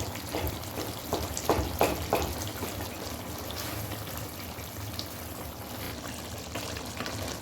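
Tomatoes are mashed and fried in a karahi for Peshawari chicken karahi, making a constant close sizzle with scraping and squishing bursts early on and no talking.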